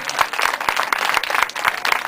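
An audience claps at a live comedy and laughter event, giving a brisk, continuous burst of applause that stays fairly steady and moderately loud.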